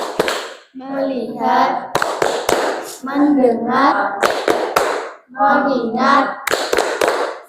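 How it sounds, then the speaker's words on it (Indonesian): A classroom group performs the 'tepuk fokus' clap routine, crisp bursts of claps alternating in a steady rhythm with loud chanted words in unison. "kita tepuk fokus dulu. Tepuk fokus."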